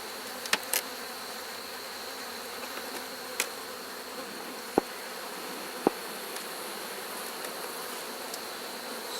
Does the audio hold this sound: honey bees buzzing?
yes